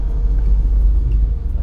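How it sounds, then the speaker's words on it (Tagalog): Dense street traffic with cars crawling in heavy congestion, a loud continuous low engine rumble close by with no distinct passes, as if heard from inside or beside a vehicle. "Grabe ang traffic ngayon"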